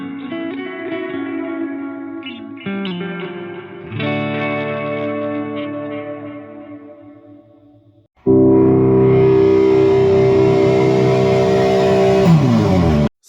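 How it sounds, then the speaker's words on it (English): Guitar chords through an Eventide Blackhole reverb pedal ring out in a lush, spacious reverb, tails washing and swelling, then a louder sustained chord blooms into a bright, shimmering wash before cutting off. "the quality of reverb that is coming off of this pedal"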